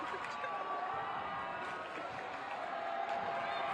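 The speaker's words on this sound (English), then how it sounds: "Our crowd is going crazy tonight" A lively crowd cheers and applauds at a high school girls' volleyball match between RHS and Malden, a dense, steady roar of voices and clapping that fills the whole stretch without letting up.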